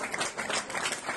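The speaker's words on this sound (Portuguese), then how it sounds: "deixou o hospital sob aplausos" Applause from a small group as a freed hostage leaves a hospital surrounded by family, a brief, fairly faint patter of clapping with no voices over it.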